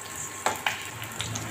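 Fish sizzling in hot oil in a home kitchen, a steady frying hiss with a couple of sharp spatters and stirring scrapes, close and alone without talk.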